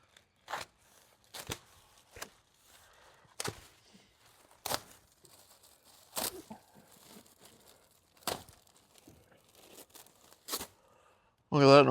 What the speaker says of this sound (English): Cut out the plastic.